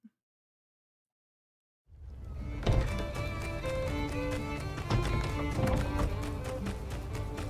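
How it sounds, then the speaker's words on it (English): Horse hooves clip-clop in the life-sim game My Time at Sandrock, starting after two seconds of silence and continuing as a steady, close trotting rhythm over busy game music and ambience. "Ooh, there's still a horse."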